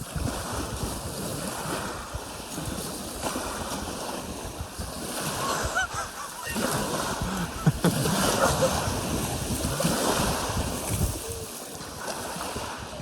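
Waves wash onto a private beach in Chile, making a steady, close rush of surf. Wind buffets the microphone throughout.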